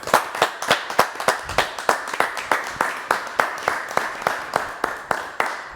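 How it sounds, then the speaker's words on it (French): A small studio audience on a French talk show claps for a guest heading to the live corner, sharp hand claps landing in a quick, fairly steady rhythm, close and moderately loud, with no voices over them. "on l'applaudit quand même"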